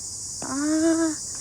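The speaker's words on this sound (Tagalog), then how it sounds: "naririnig niyo ba guys yung kuliglig?" A single sustained cricket trill lasting under a second, rising out of a steady high-pitched insect hum in the background.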